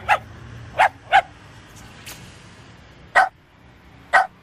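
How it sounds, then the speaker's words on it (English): An old, mangy dog barks in short, sharp single woofs spaced irregularly, six distinct barks standing out clearly against a quiet background. "Donnell, what the hell am I supposed to do with this mangy old dog?"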